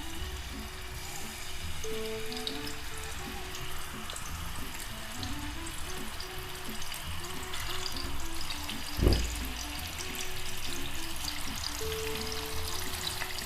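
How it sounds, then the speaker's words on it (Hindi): Masala-coated fish pieces frying in oil in a pan, a soft continuous crackling sizzle with one brief thump midway, with background music playing along. "ये सारे पीस इसमें रखेंगे और इनको फ्राई कर लेंगे"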